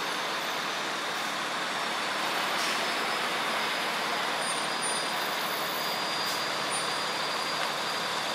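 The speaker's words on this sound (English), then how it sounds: "Oh, there comes their tow truck, John." Tow truck pulling up at a roadside DWI checkpoint on Route 9 in Manalapan, a loud, steady diesel engine rumble and roadway noise throughout with a faint air-brake hiss, nearby and unbroken, no voices.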